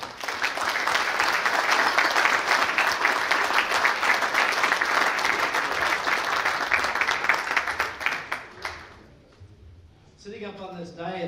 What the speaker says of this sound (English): Let's give a big round of applause for all of the legendary past winners of the Turk Karam Award.